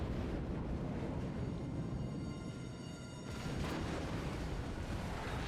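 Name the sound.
battleship guns firing, from video game World of Warships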